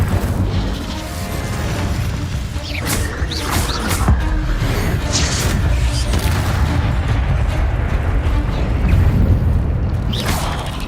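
A Confringo spell explosion in Hogwarts Legacy: a loud, sustained rumbling blast with crackling debris and sharp bursts layered over a dense low roar, close and continuous throughout.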